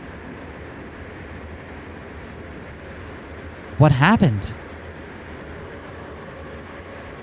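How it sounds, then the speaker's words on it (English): A train in the video game Crimson Spires passes in one brief, loud rushing burst with sweeping tones over a quiet, steady background, while a voice speaks in the scene. "I get the sense that the train would absolutely have killed us."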